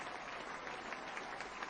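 Faint, distant applause from an audience at a gathering, an even continuous patter of clapping with no clear voices on top.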